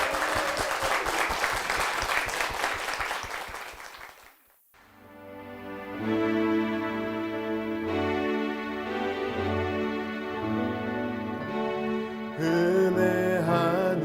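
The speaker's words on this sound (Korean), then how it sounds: "축복의 박수 부탁드리겠습니다" A church congregation gives dense, sustained applause for about four seconds, and the sound cuts off into a sung hymn with instrumental accompaniment.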